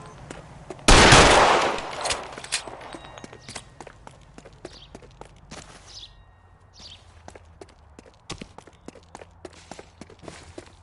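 Gunfire rings out in the video game L.A. Noire: one loud blast opens, followed by a long run of sharp, scattered cracks and clicks over a low background.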